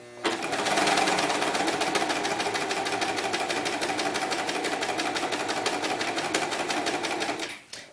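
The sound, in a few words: serger sewing machine finishing doll romper edge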